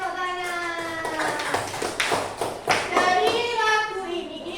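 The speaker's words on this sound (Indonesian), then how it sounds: "Yeay, tepuk tangan." Children clap their hands in a classroom sing-along, a scattering of sharp claps under loud singing and chatter from kids and a teacher.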